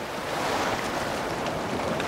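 Waves wash against rocks on an Ontario lake shore where brook trout are being fished, a steady close surge of water mixed with gusty wind noise and no voices.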